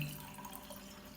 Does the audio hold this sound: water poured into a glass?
yes